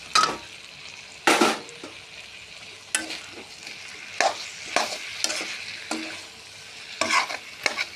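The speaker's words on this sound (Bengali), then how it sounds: "হালকা হালকা নাড়তে থাকবো" Fried jackfruit stirred in a pan with sizzling oil, a close spatula scraping in several separate bursts over a steady low frying hiss.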